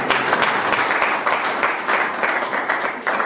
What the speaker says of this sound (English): Come, let's clap for you for his life.